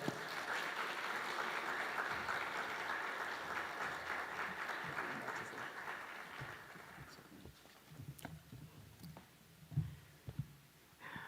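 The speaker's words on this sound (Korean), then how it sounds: "우리 뜨거운 박수로 모시겠습니다" A church congregation gives warm, sustained applause to welcome a missionary to the pulpit at a Friday prayer meeting, dense clapping that fades after about seven seconds into scattered claps and low room noise.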